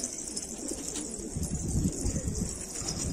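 Domestic pigeons in a coop, with steady low cooing from several birds and a high constant hiss over it, fairly close and continuous without pauses; no one speaks.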